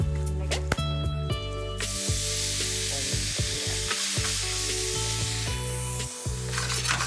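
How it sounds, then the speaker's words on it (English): Vegetables braising toward a beef cheek dish sizzle and caramelise in a hot pan with a loud, steady fry. Occasional stirring scrapes and clunks sound over the sizzle. "vegetables are looking beautiful. Started to caramelise, good sweat on them."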